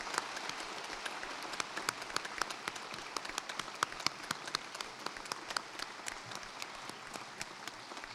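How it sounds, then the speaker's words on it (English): Audience at a university graduation ceremony clapping in a hall, a dense patter of many hands sustained for about eight seconds, fairly distant and even in level. "Big round of applause for Dr. Keane."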